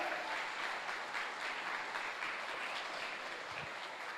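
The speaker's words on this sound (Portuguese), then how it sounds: "Quem crê, dá uma salva de palmas para Jesus" A church congregation bursts into sustained, dense applause, many hands clapping steadily throughout at full strength.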